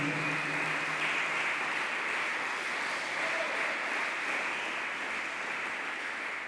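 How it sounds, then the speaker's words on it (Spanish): A church congregation applauds the Lord continuously during a sermon, a dense steady patter of clapping filling the space, with a faint voice briefly underneath. "¿Cuánto le dan un aplauso al Señor?"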